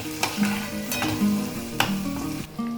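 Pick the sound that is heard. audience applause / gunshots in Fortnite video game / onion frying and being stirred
onion frying and being stirred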